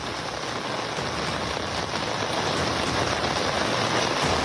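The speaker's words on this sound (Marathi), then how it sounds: "ढगांच्या गडगडाटासह मुंबईमध्ये पाऊस बरसतोय" Heavy rain falling in Mumbai, a dense, unbroken hiss of drops hitting surfaces, steady and fairly loud throughout with no voices.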